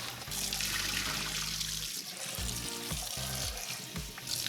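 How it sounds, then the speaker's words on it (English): Running water splashes and trickles while an AeroGarden reservoir is rinsed under a tap, a steady wash of water noise broken by hollow knocks and clunks from handling the plastic unit. "you're going to rinse out the reservoir unit under running water"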